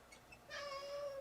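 A cat meows once, a short, clear, close mew standing alone in an otherwise quiet room where a Commodore 64 is being repaired.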